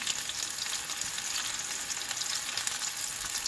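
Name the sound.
mutton kola urundai meatballs frying in oil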